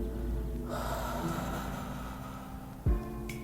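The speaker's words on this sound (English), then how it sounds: "let's take a deep breath in. Breathing in new life, new wisdom and peace, and a breath out." A slow, deep breath drawn in and let out during a guided meditation, soft and close, heard over a steady background of quiet sustained tones.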